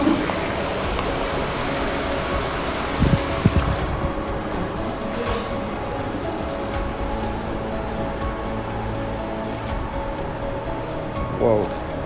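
Steady rushing wash of a river flowing past a burned-out factory, constant and fairly near, with a few faint knocks and a brief voice near the start.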